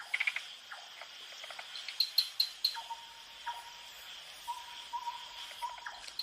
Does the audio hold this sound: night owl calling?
yes